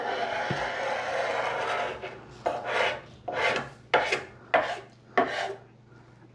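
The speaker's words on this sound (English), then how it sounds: "The edges still have a little bit of varnish, a little light scrape." A hand scraper draws lightly along the edges of a wooden waterfall dresser to lift leftover varnish, in five or six short, crisp rasping strokes, each a separate scrape, heard close up with no talk.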